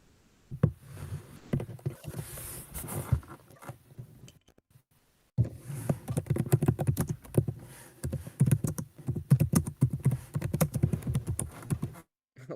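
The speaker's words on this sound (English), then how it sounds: "Loud on keyboard." Loud typing on a computer keyboard, rapid clattering keystrokes in dense bursts up close, broken by a short silent gap before a longer flurry of fast taps.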